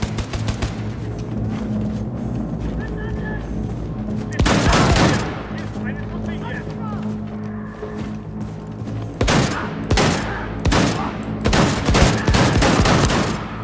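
Close-range shotgun fire in the video game Wolfenstein II, loud sharp blasts in separate bursts over a low ambient hum, with several shots clustered near the end.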